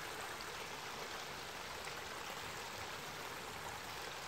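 Water gushing from a new pipe into a lake ditch, a steady, dense broadband rush that stays constant and fairly close throughout, with no talking.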